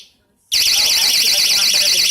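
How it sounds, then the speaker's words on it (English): A battery door alarm set to alarm mode blares suddenly after a brief quiet moment, a loud, piercing, warbling electronic siren that pulses steadily and continues unbroken at close range. "Now let's try alarm."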